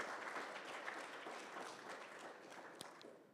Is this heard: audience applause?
yes